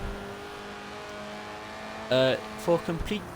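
A steady low engine drone of a Chevrolet Corvette C8 idling in a video game holds throughout, and someone speaks briefly over it near the end.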